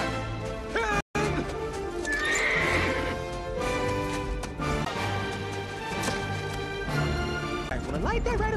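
A horse neighs loudly amid a chaotic animated battle scene with cannons, hooves clopping and voices talking and shouting over it.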